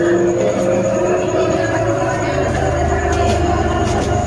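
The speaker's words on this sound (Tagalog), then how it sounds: "nandito na ako sa loob ng train" Inside a moving passenger train, a steady loud rumble and hum of the carriage continues throughout with no breaks.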